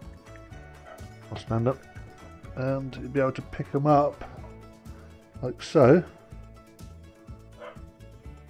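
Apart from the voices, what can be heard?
dog barking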